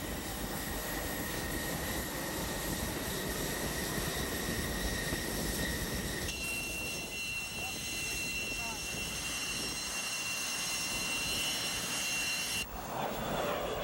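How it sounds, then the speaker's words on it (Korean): Jet aircraft taking off and landing on the deck of the aircraft carrier Kitty Hawk, a loud, sustained engine roar and whine that changes pitch midway and rolls on throughout. "수많은 비행기들이 이착륙하는 곳 항공모함"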